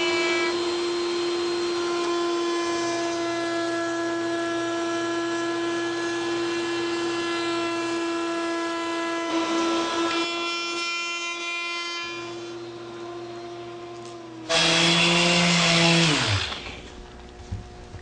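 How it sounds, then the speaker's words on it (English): A router table fitted with a roundover bit eases the inside and outside corners of a wooden bowl, giving a steady high-pitched motor whine that holds throughout, with brief cuts and a louder burst of routing near the end. "ease the corners, inside and out, using a roundover bit in the router table"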